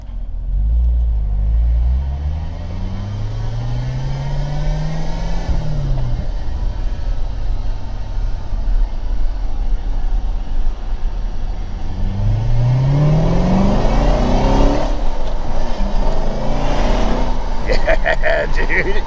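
Engine of a flood-damaged C7 Corvette running steadily and revving, with rising pitch sweeps near the start and again around the middle, loud and continuous throughout with some background noise.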